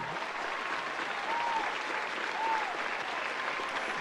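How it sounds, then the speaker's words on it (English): A short applause sound effect played during a beat-making session, a steady wash of crowd clapping that holds evenly for several seconds with no talking over it. "Let me clap it up for you."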